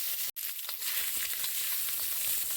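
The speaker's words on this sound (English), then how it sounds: "I'm leaving the sizzling in for a little ASMR" Hot oil sizzles steadily as Spam fries in a pan for low-carb Spam fried rice, a dense, continuous crackle close up with one brief cut-out near the start and no talking.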